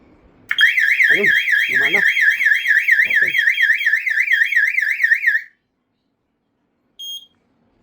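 A loud warbling electronic alarm from a conventional fire alarm system's smoke detector wails continuously for about five seconds, with a few brief spoken sounds underneath, then stops; a short beep follows after a pause.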